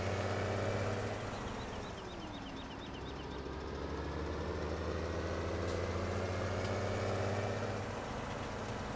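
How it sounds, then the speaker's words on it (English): In Farming Simulator 17, a tractor used for leveling runs its engine at a steady, low drone with a constant hum and faint mechanical whine, even throughout and with no talk. "This is the tractor, by the way, I'm using for leveling."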